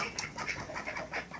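A Cinnamon Queen hen makes soft, faint clucks and murmurs in a quick, uneven series, close by and alone.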